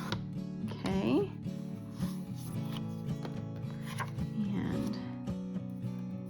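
A Fiskars paper trimmer cuts scrapbooking paper with a quick zipping slide of the blade. Tonal background music runs underneath, and a voice briefly speaks.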